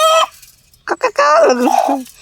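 A chicken clucks loudly and close up in a short series of throaty calls, with a brief quiet gap before the clucking resumes.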